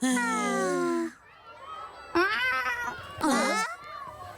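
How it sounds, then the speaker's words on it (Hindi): A cartoon cat from the Shinchan series meows in several drawn-out, wavering cries, the first long and sustained, the later ones shorter and rising, close and clear with brief quiet gaps between. "ये बिल्ली तो बाहर से आई ना?"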